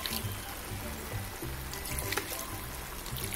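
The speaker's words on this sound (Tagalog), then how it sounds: "Maglalagay lang po tayo ng konting tubig." Water pours into a pan of pansit canton with baby octopus and chicken, a steady close trickle and splash running continuously for a few seconds with no talk.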